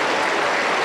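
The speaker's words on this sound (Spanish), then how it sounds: "Déjame un aplauso para el Señor" A church congregation applauds for the Lord, a dense, steady wash of many hands clapping that fills the whole short moment at full loudness.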